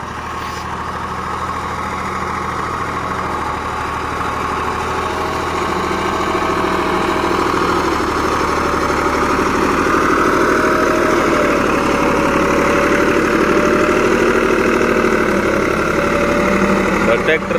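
A Greaves 353 tractor engine with a 3 MB plough idles in a continuous loud diesel rumble with a knocking, vibrating throb, building slightly and holding steady, close to the listener, with faint talk underneath.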